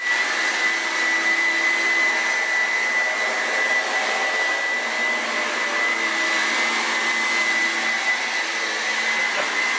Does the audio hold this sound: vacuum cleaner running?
yes